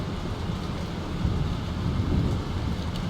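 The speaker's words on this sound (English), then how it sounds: "This storm is real." A thunderstorm in the game Life is Strange: dense, steady rain hiss with a low rolling rumble of thunder swelling in the middle, loud and close, with no voices.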